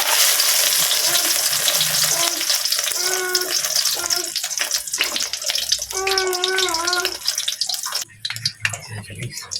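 A frying pan (kawali) with a little oil sizzles steadily while bangus sisig is cooked, a loud, continuous crackle with stirring scrapes. A voice talks over it throughout.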